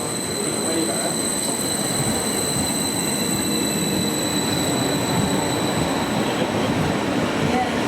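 A train pulling into Stowmarket station, a steady loud rumble of rolling wagons with faint wheel squeal and a high tonal whine, continuous throughout with a hint of distant talk.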